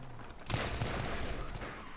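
A burst of rapid gunfire in Battlefield 3 erupts suddenly and continues as a dense, crackling stream of shots.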